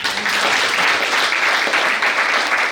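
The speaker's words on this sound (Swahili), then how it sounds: "tujipigie makofi." A church congregation claps loudly and continuously at a ceremony honouring an archbishop, a thick, even roar of hands with slight rises and falls and no voices over it.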